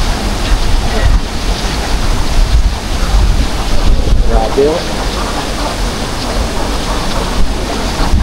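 A powerful river surges at the San Vicente crossing after a super typhoon, a loud, steady roaring wash buffeted by wind. A person briefly exclaims over it.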